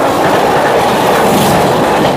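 The Manas Rhino Passenger train between New Bongaigaon and Guwahati in Assam makes a loud, constant roar of wheels on rails, heard up close and without a break.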